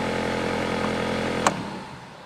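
A car engine idles steadily nearby, a constant low rumble with a faint brief click before the sound trails off, from a vehicle with an EVAP system leak code P0456.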